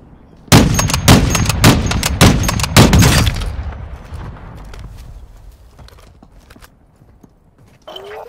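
Loud, rapid gunfire from Call of Duty, with a sniper exchange: a dense burst of shots for about three seconds, then a fading tail and quieter ambient game sounds.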